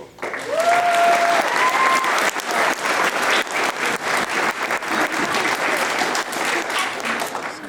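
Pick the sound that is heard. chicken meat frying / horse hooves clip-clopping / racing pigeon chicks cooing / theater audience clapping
theater audience clapping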